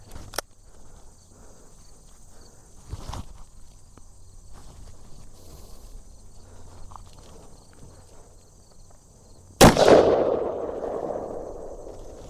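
A single very loud, sharp gunshot from a Magnum Research BFR .500 Magnum revolver cracks outdoors after a quiet stretch of insects and faint movement, its blast ringing out and fading over about two seconds.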